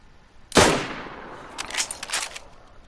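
A single loud gunshot in the video game DayZ rings out sharply, followed by a rattle of quieter clicks and thuds, with no voices.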